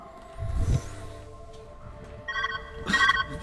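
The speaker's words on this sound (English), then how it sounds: "Where's that ringing coming from?" A telephone rings in the video game Viewfinder, a bright electronic trill heard in two short bursts near the end, preceded by a low thump and faint background ambience.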